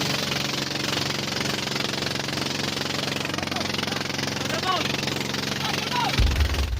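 A boat motor drones loudly and steadily at high speed, with indistinct voices faintly audible underneath.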